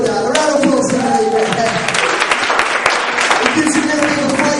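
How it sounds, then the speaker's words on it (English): A youth-event audience applauds in a steady wash of clapping and crowd noise, with a voice speaking over it near the microphone. "A round of applause for me."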